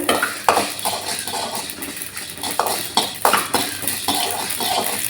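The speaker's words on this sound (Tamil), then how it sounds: "கடுகு நல்லா பொரியுது பாருங்கள், படப்படன்னு" Mustard seeds crackle and pop in hot oil, irregular sharp pops and snaps over a constant hiss, fairly close and loud, with no talking.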